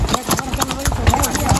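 Horse hooves clip-clopping on a trail during a horseback pilgrimage ride, uneven repeated thuds up close, mixed with engine-like rumble and people talking over them.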